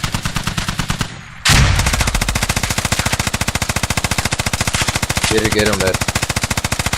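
Rapid automatic gunfire in a first-person shooter game during close-quarters combat on the Al Basrah map, loud and nearly continuous, with a brief lull before the fire resumes in steady bursts while a voice speaks briefly over it.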